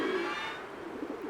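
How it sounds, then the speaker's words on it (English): A pigeon coos in a Christmas Stories 3 game scene, a soft, steady low murmuring call that holds for about a second with no talking over it. "Hello there, Mr. Pigeon. Is the birdie hungry?"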